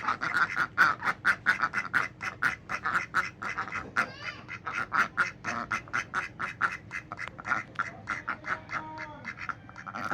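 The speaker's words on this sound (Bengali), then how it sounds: "আমার হাঁসগুলো আজকে" A group of ducks quacks loudly and close by, with rapid, overlapping calls that continue in a steady, bouncing rhythm throughout.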